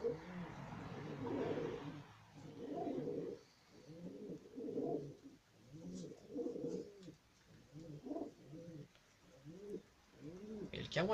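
A male pigeon coos repeatedly near a nest by the water, a steady series of soft, low, rolling coo phrases with short pauses between them, fairly close and clear, with a faint higher bird call near the end.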